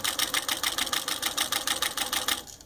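A PFAFF 483 single-needle industrial sewing machine stitches terry cloth in a fast, close, rhythmic chatter of needle strokes, running steadily for a couple of seconds before stopping.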